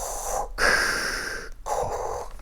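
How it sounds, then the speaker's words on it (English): A Darth Vader breathing effect plays from the talking cover of an Empire magazine, two long, hissing mechanical breaths, near and fairly loud, with no talking over them. "The Empire magazine with breathing Darth Vader."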